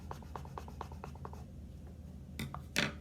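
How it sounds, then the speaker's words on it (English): Sharp scissor point scraping and poking through the bottom of a cup, a run of small rhythmic scratches followed by a louder crisp puncture near the end, close and quiet. "you're going to take the end, the sharp end, and you're going to make a hole in the bottom of the cup"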